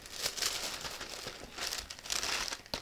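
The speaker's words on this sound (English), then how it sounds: "sorry for the crinkling." Plastic packaging from a fabric haul crinkles and rustles close by in several uneven bursts, soft but clear, with no voices.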